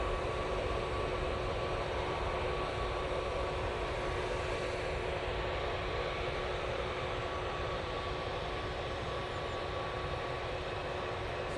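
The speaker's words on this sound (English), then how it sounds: "there's a TUI Dreamliner pushing now" A TUI Boeing Dreamliner pushes back at Manchester Airport under a steady, droning engine and ground-equipment hum, with constant tonal whine. The noise is moderately loud and unchanging throughout.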